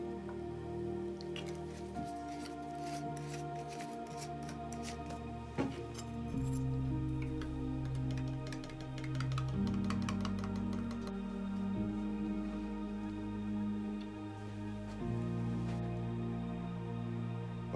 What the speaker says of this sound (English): it's raining pretty good in there